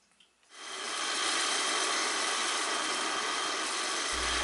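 A bandsaw starts up and cuts the corners off a wood blank being rounded for a lathe-turned candy bowl, a loud, steady, close whine and rasp that holds evenly after a brief quiet start.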